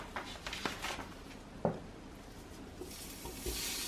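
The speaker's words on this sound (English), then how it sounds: "I love to hear it sizzle." Ground beef sizzles in a hot pot with a steady crackling hiss, broken by a few stirring scrapes and clanks.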